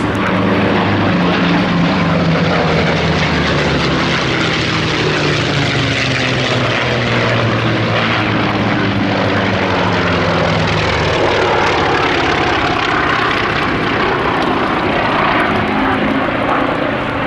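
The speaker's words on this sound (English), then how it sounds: "Here is P-47D, named Nellie B, leads in the two Mustangs and behind them the Wildcat." A P-47D Thunderbolt, two P-51 Mustangs and an FM-2 Wildcat fly past at the Duxford D-Day 75 airshow, with a loud, continuous roar of piston engines and propellers swelling and shifting as they pass close by.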